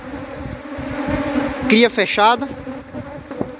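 Honeybees hum in a steady, close buzz around open hive frames in an apiary, while someone speaks briefly over the drone.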